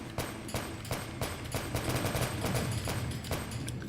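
Rapid weapon fire in Metal Gear Solid 4, with a string of sharp gunshots cracking out at a steady, fast rhythm over a continuous dense rumble of game sound.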